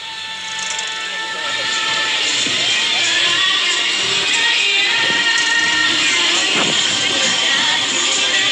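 A crowd applauds at the opening of the Sri Baduga fountain park in Purwakarta, with loud, dense, sustained clapping and scattered cheering voices that stay steady throughout.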